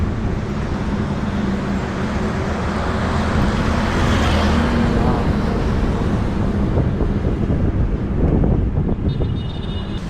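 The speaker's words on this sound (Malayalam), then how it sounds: "നല്ല കാറ്റും വന്നിട്ടുണ്ട്." Cool wind buffets the microphone while cycling along a road in Kerala, a loud continuous rushing roar that swells and eases, with road noise mixed in and no talking.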